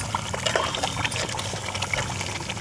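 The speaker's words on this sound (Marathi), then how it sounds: "तर यामध्ये पाणी घालावे." Water pours steadily into mutton curry cooking in a pot, a continuous trickling splash that lasts the whole moment with no voices.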